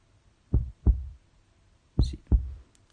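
Horror visual novel game heartbeat effect: two pairs of deep, thumping lub-dub beats, close and loud with a pause between the pairs, playing alone without voices.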